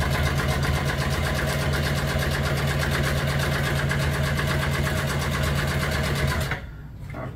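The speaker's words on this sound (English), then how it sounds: "So this time I'm going to just sew a straight one" A sewing machine stitches a straight seam on classic car tuck and roll upholstery, running with a steady, close, continuous whir and rapid needle chatter before stopping abruptly near the end.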